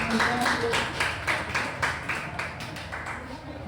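Students in a 10th-grade class clap for a classmate, producing a moderately quiet, even spread of handclaps that thins slightly toward the end, with faint voices underneath.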